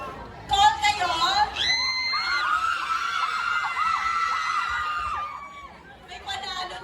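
A crowd at a river fun-run event screams and cheers loudly in a contest for the biggest delegation, a sustained wall of high voices and whoops that swells, holds for several seconds, then fades into scattered shouts.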